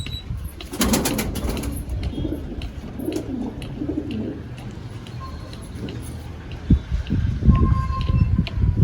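Rampuri pigeons of an old Kalajiriya flying bloodline cooing and flapping, with a wing-flutter burst near the start and low murmuring coos throughout, under faint background voices.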